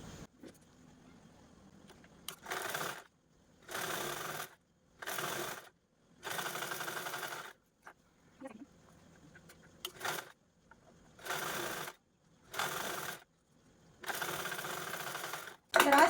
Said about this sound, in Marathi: मी डायरेक्ट स्टिच करून घेते कडेने